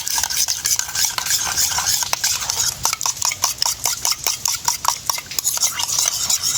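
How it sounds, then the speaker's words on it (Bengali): Sour yogurt with salt and a little sugar being whisked briskly in a bowl, a steady scraping, rhythmic stirring with quick repeated strokes, close and fairly loud, with no talking. "এইবারে টক দইটা খুব ভালো করে ফেটিয়ে নেব"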